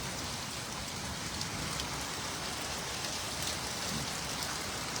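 Drizzling rain in Bilaspur during a storm, a steady dense hiss of drops falling on surfaces, continuous and even with no voices.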